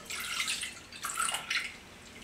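Milk pours into a blender jar for banana pancake batter, landing in two short splashy bursts that sound close and fairly soft, with no talking.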